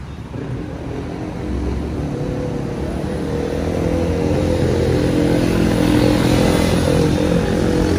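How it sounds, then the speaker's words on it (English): Supermoto dirt bike motorcycles passing at night on a city street in Philadelphia, a steady loud engine drone that swells slightly as they approach, heard amid traffic noise without talk. "I hear a dirt bike, there's a dirt bike over here."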